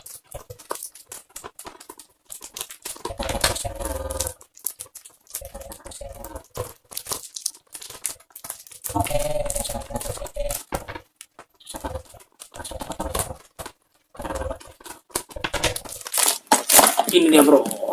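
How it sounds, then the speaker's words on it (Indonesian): Parcel packaging crinkles and tears in bursts as a box holding an SQ8 mini DV camera is opened, the rustling up close, with someone talking throughout. "sekarang kita mau unboxing paket yang aku bilang tadi"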